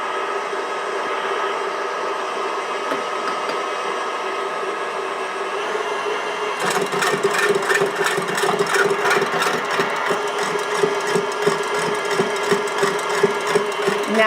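An electric mixer whips egg whites for pavlova with a steady, close motor whir that grows louder and busier partway through as the beaters work the foam, no talking.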